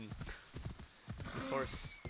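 Horse hooves clopping in a video game, with a short whinny in the middle, quiet and mixed under someone talking.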